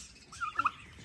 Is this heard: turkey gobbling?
yes